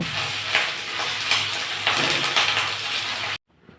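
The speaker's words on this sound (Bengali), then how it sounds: "ভেজে আসা পেঁয়াজের সাথে পেঁয়াজ বাটা, রসুন বাটা, আদা বাটা, জিরা বাটা, কাঁচামরিচ বাটা দিয়ে মশলাটাকে পেঁয়াজের সাথে ভালো করে মিশিয়ে নেব" Onion, garlic, ginger, cumin and green chilli pastes being stirred into fried onions in a pan for chicken biryani, a steady close sizzle with scraping stirs that cuts off abruptly near the end.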